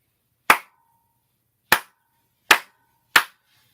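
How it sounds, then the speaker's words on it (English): Four sharp single hand claps in a quiet room inside a reputedly haunted house, each a crisp isolated crack with a short decay, spaced irregularly about a second apart. "I'm clapping because I'm noticing it's like it's in a gosh darn acoustic"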